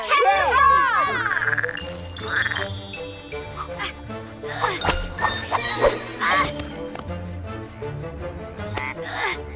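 Cartoon frogs croak in a busy mix of animated music, quacks and voices, with the croaks coming in short bursts throughout and characters talking over them.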